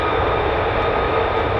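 Steady, loud jet engine roar from F-15 or F-35 fighter jets taxiing at RAF Lakenheath, a continuous broad rushing whine with no break.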